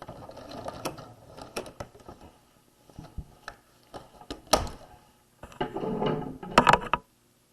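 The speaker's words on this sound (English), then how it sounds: "When you get to the end, we're going to back stitch" A sewing machine back stitches at the end of a seam joining a facing to a skirt waist, with short mechanical bursts and pauses, then a louder stretch of running stitches near the end.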